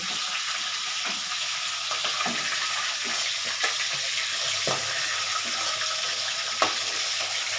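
Oil sizzles steadily as aar fish fries, with occasional clicks and scrapes of a utensil stirring in the pan.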